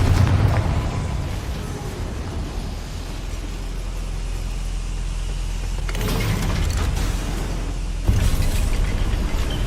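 A Confringo fire-blast spell goes off inside a goblin mine in the Hogwarts Legacy video game, giving a sustained rumbling roar with fresh bursts near the end, dense and loud and without talk.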